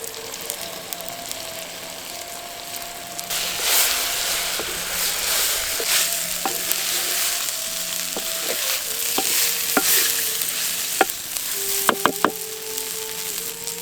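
Crushed Maldive fish (masi karuvadu) sizzles in oil with softened tomatoes in a pan, a steady frying hiss broken by scraping stirs and sharp clicks of a utensil against the pan.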